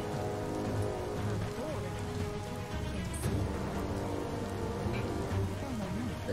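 Steady rain falls in the Biomutant video game world, a dense continuous hiss of drops on surfaces at even loudness, with a low rumble underneath and game music tones in the background.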